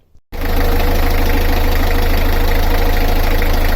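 A Beta 38 diesel engine on a narrowboat starts up after an oil service and settles into a loud, steady idle with an even rapid knock, running close by for several seconds with no speech.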